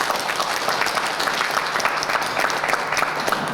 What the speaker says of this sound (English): possible without people like Michael Fragan, who I'd like to have a clap and a shout out